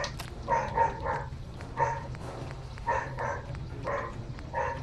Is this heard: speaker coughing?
no